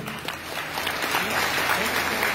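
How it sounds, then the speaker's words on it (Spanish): An audience applauds a conductor with a youth band at a concert, producing a moderate continuous patter of clapping. A voice can be heard faintly underneath. "Fuertes los aplausos para él"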